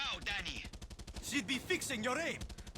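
Rapid bursts of enemy gunfire in the video game Far Cry 6, a fast repeating crackle running through most of the stretch, with voices and game sounds mixed in over it.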